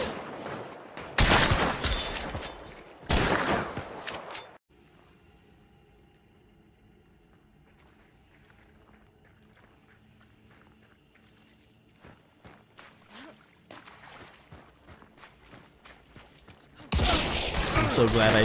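Gunfire in the video game Hunt: Showdown comes in two loud, sharp bursts at the start. Then there is a long stretch of quiet rustling and footsteps, and another loud burst of shots closes it out.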